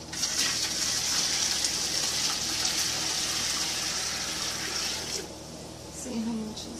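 Hot water runs from a kitchen tap in a steady, broad gush during banana canning, cutting off near the end and leaving quieter room sound with faint talk.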